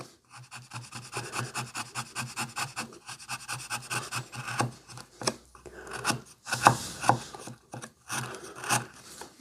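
A wood chisel tip cuts fine lines into a carved wooden face, making a rapid series of short rasping strokes in close, rhythmic bursts, with a brief pause and some sharper scrapes midway, no speech.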